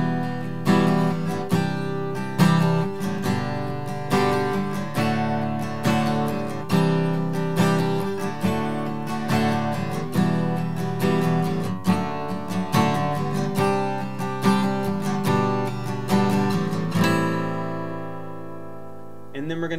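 Acoustic guitar strums the chord progression from a country song in a steady rhythm of repeated strokes, close and clear, ending with a ringing chord that fades; no one speaks.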